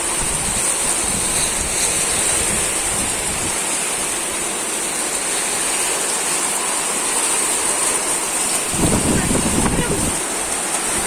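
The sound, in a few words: heavy rain and wind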